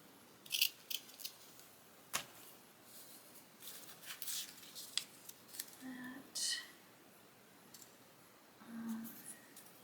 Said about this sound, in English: let's go ahead and cut this.